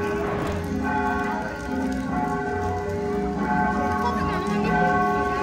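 Bells ring out steadily across a street scene where people are out eating, their sustained tones layered in an even drone that carries through the whole stretch under background chatter.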